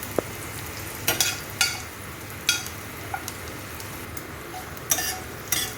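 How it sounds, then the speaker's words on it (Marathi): Garlic sizzles steadily in a hot pan, with a spoon scraping and stirring in several sharp clinks and strokes over the continuous frying hiss. "तर व्यवस्थित लाल होईपर्यंत परतायचं आहे"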